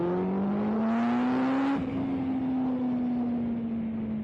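A litre (1000cc) motorbike accelerates with the throttle wide open in B mode, its engine note climbing steadily, then dipping at a gear change before rising again, loud and close under rushing wind.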